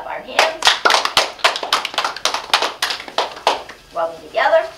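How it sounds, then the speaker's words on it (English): Rhythmic hand clapping during a seated exercise session, a steady run of sharp claps near and fairly loud, slowing and fading toward the end. "Let's clap our hands."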